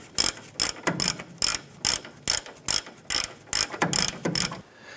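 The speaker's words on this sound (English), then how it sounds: "Let's go ahead and tighten down this nut right here." A ratchet wrench tightens a nut on the steering pitman arm of a 1994-2004 Chevrolet S10, with about a dozen sharp, evenly spaced clicking bursts, close and loud, and no talking.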